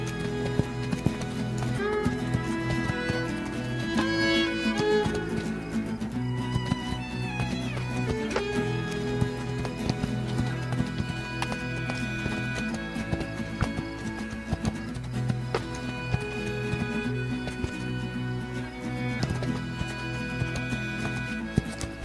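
Hooves of the horse Spirit clip-clop in a steady galloping rhythm inside the Spirit video game, set against dense, continuous game music that fills the whole passage.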